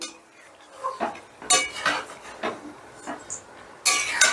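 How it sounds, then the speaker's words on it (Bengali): Metal spoon scraping and clinking against a pan while chicken is stirred with sour yogurt, a series of irregular sharp knocks and scrapes over a quiet background, close by. "এবারে টক দইটা দিয়েও চিকেনটাকে আবারও প্রায় দু থেকে তিন মিনিট কষে নেব"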